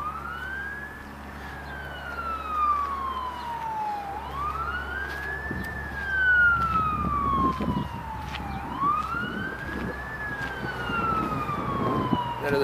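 A SoundOff Signal 756 premium emergency vehicle siren wails loudly and close, rising and falling in repeated long sweeps with a steady low hum underneath.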